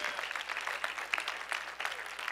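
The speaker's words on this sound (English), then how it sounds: "Give God a praise clap for mind renewal." Church congregation giving a praise clap during a sermon, a fairly quiet patter of hand claps with a few sharper individual claps standing out in an uneven rhythm.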